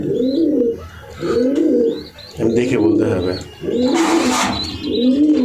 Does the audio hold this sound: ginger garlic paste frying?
no